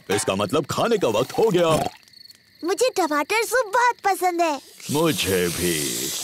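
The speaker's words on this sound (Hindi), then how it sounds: "ये कीड़ों की चीची आवाज है।" Insects chirping at night in a cartoon outdoor scene: a faint, steady cricket-like trill runs underneath, mostly covered by children and adults talking, and comes through more clearly in a short pause between lines.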